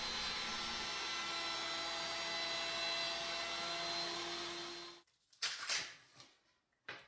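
A wood router with its motor speed turned down cuts a profile into a wooden table top, a loud, steady whine lasting several seconds before it stops, followed by a few brief knocks and handling noises.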